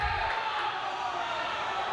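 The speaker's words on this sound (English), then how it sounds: "Teammates cheer on" Teammates cheer from the pool deck at a 2018 boys' high school swimming playoff meet between Vineland and Washington Township. Their continuous crowd noise washes through the echoing natatorium, with voices mixed into the din.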